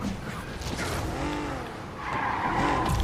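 A car skids to a stop in the Spider-Man video game, with loud, sustained tire squeal and screeching under engine noise that rises again toward the end.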